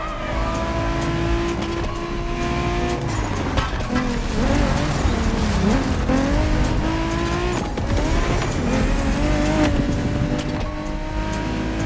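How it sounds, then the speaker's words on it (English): A BMW Z4 M40i roadster driven in the video game The Crew Motorfest, with a loud continuous engine drone rising and falling through gear changes, plus occasional tyre squeal over steady road noise. "We have prepared a classic for you from a very famous German brand, the BMW Z4 M40i."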